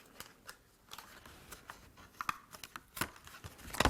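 Scissors snipping through card corners on a papercraft die-cut piece, a series of short crisp cuts and rustles spread irregularly, close and fairly quiet, with a louder cluster of snips near the end.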